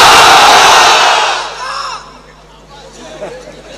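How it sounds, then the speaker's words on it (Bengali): A crowd of married men loudly chanting the takbir, Allahu Akbar, in unison at a religious gathering, a powerful roar of massed voices that swells and then fades into scattered murmurs. "আমি লিল্লাহি তাকবীর বললে গলা উঁচু করে আল্লাহু আকবার পড়া যাবে?"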